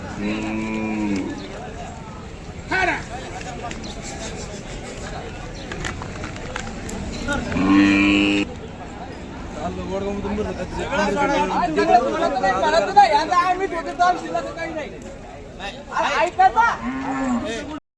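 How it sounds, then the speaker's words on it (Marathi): Bullocks moo repeatedly, deep and drawn out, over a busy crowd of chattering voices at the large open-air Chakan cattle market near Pune. "भरपूर असे चाकण बाजारामध्ये तुम्हाला बैल भेटतील"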